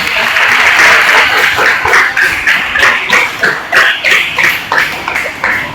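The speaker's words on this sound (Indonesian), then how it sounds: "Tepuk tangan untuk doa." An audience in a classroom claps in steady, loud applause that keeps going throughout and rises and falls in waves of rhythmic hand claps.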